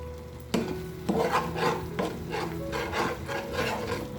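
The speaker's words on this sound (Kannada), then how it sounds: "ತಳ ಅಂಟದೇ ಇರೋ ಥರ ತಿರುಗಿಸ್ಕೊಳ್ತಾ ಬೇಯಿಸ್ಕೊಬೇಕು ಇದನ್ನು" A spoon scraping and stirring through a thick tomato mixture in a pan over a medium flame, in steady repeated strokes, close and moderately loud, with no voices.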